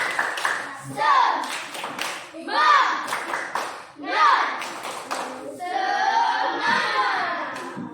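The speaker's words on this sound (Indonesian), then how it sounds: "Kita beri tepuk semangat untuk kelompok 2 dulu." A classroom group gives a rhythmic cheer clap for group 2, several bursts of patterned clapping mixed with children's voices and chanting, near and fairly loud.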